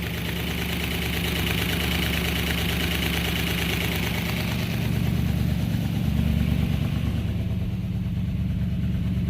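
A Buick 350 V8 idles steadily after a pushrod change, a loud, close, even rumble with a faint ticking rhythm, swelling a little partway through.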